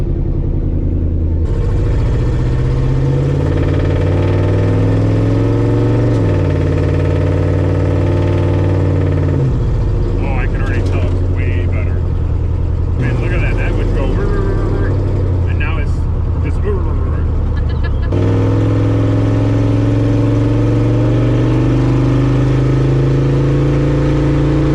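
A Belvedere truck with newly balanced tires runs on a family test drive, its engine droning loudly and shifting pitch through gear changes, while people inside talk over it for much of the drive.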